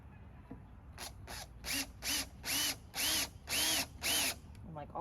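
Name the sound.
power drill driving screw into wooden dowel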